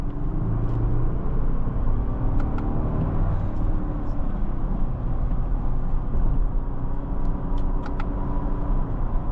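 Cabin rumble from inside a 2025 Lexus LX 700h F Sport hybrid on off-road tires as it accelerates, a steady, dense low drone of engine and road noise with faint ticks throughout.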